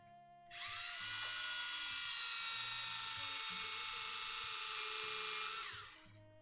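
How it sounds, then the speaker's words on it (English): A Tamiya electric handy drill spins up and grinds through plastic model-kit sprue in one sustained high-pitched whir for several seconds, then winds down, with faint talk underneath. "let's drill into some sprue material"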